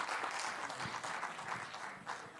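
Audience applause at a literature festival, a steady broadband patter of many hands clapping that holds fairly even for a couple of seconds, heard from a moderate distance.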